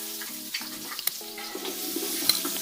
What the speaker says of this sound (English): get your onions, put some onions in there